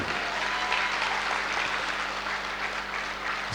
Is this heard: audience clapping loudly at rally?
yes